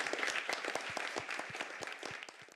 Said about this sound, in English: let's give Chuck Collins a round of applause